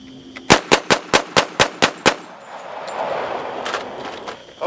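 A .45 ACP pistol fired at night outdoors: eight loud, sharp shots in a steady rapid string, each followed by a short ring, then a longer fading echo and low background noise.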